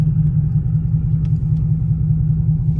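A catless Camaro SS idles in reverse with a low, steady, throbbing exhaust rumble close by and no talking.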